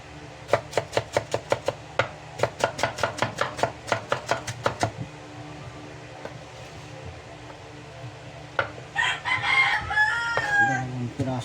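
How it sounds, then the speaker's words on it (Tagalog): Garlic cloves are crushed with a run of rapid, sharp knife or pestle strikes that stop partway through, followed by a rooster crowing in the background. "Dalawang piraso ng bawang. Pitpitin lang yan."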